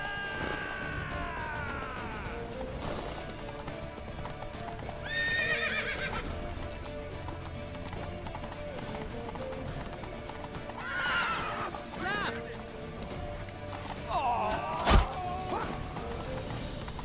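Horses gallop in The Witcher 3 with a steady clip-clop of hooves, broken by several loud whinnies and neighs, plus a sharp thwack near the end, all alone without talk.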